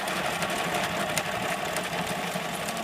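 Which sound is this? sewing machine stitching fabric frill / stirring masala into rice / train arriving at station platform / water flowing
sewing machine stitching fabric frill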